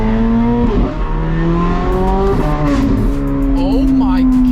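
A Corvette C8 Z06 with a loud aftermarket exhaust revs close by in repeated rising and falling blips over a constant rumbling idle. A voice talks over it.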